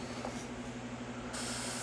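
Short airbrush test spray of paint or primer, a steady close hiss lasting under two seconds over a constant low background hum.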